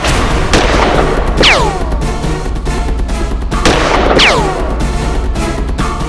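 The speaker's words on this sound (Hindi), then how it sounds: "इन्होंने सर्वप्रथम बंसल जी पर गोली चलाई" Two loud gunshots ring out a few seconds apart, each one a sharp crack followed by a whizzing ricochet, over a dense, noisy background.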